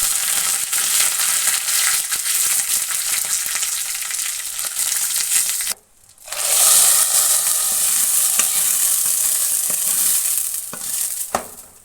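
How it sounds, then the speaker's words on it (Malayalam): Loud crackling sizzle of mustard seeds, dried red chillies and curry leaves frying in hot oil in a pan, steady and close, with a brief drop in the middle before the spattering resumes. "പാനൊക്കെ വെച്ചിട്ട് അതിലേക്ക് കടുകും ഉണക്കമുളകും കറിവേപ്പിലയും പൊട്ടിക്കാണ്"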